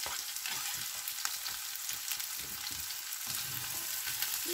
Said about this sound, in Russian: перемешиваю, все у меня жарится вместе.